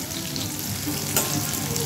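Eggplant pieces fry in a hot pan over raised heat in a vegetarian Bengali home kitchen, a steady close sizzle running throughout with a brief stir or spatter near the middle.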